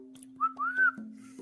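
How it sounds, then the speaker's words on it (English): A person whistles a short rising-and-falling tune of two brief notes, clear and close, over a steady low electrical hum with no talking. "I don't know if whistling comes through as the worst sound ever on here"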